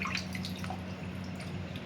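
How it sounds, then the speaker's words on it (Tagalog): Cleaned shrimp being rinsed in a bowl of water, with small splashes and drips scattered over a low steady background, brief and fairly quiet with no voices. "lublob nyo lang dito sa tubig"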